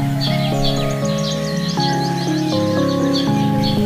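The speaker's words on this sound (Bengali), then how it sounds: "পাখির ডাক শোনা যাচ্ছে।" Birds chirp and tweet in the morning after rain, with quick, repeated bright calls scattered throughout over a steady musical background.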